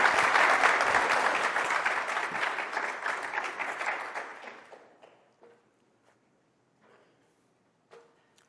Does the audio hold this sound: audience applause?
yes